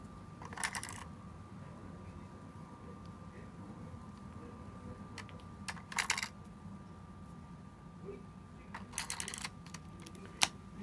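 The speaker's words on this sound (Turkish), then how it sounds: "Evet, şimdi şarj olmuş pillerimizi takıyoruz flash'ımıza." Charged Eneloop AA batteries go into a Yongnuo YN968EX-RT flash in three short bursts of plastic clicks and rattles, spread out over a low, quiet room hiss.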